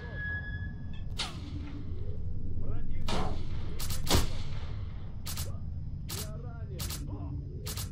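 Sharp gunshots crack out in scattered single bursts, some echoing, amid a low rumbling background with synthetic game-like effects and no clear speech, in the video game S.T.A.L.K.E.R.: Call of Pripyat.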